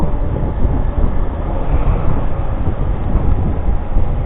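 Loud, steady wind roar buffeting continuously, a dense low rumble with no pauses, like air rushing past while riding a motorcycle downhill.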